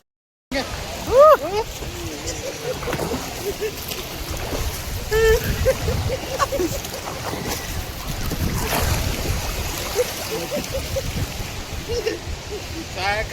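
A boat motor churns through water amid wind buffeting and splashing waves, with excited voices shouting over the noise.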